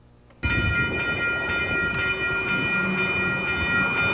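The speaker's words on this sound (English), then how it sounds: "Earlier this year, trains began moving onto the new tracks" An Edmonton LRT train running on new tracks near the old NAIT station, a loud steady rumble with a sustained tonal whine that starts abruptly and holds throughout.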